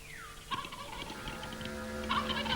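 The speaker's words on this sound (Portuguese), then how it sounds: "Os gritos obsessivos deste papagaio que se passeia pelo solo para atrair companheiras" Kakapo parrot, a ground-walking bird, giving repeated loud mating calls in the wild, a harsh booming and gobbling chorus that swells and fades across the clip with no talk.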